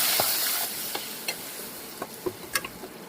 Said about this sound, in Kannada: ಒಂದು ದೊಡ್ಡ ಸೈಜನ್ ಸೈಜಲ್ಲಿರುವಂಥ ಮ ಟೊಮೊಟೊನ ಹಣ್ಣಾಗಿರುವಂಥದ್ದು ಹಾಕ್ತಾಯಿದ್ದೀನಿ